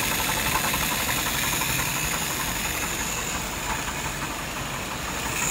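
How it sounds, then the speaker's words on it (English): An engine idles at roughly 700 RPM, giving a steady, even low hum with a faint rhythmic pulse close at hand and no speech over it. "I've got the idle RPM set at 700."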